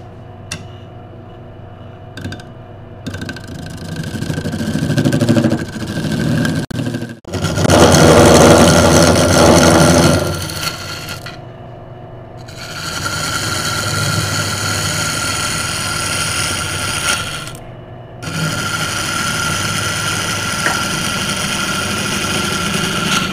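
A wood lathe spins a Baltic birch plywood bowl blank while a parting tool cuts a ring off it, giving a steady mechanical drone with louder harsh cutting stretches and brief pauses, close and continuous.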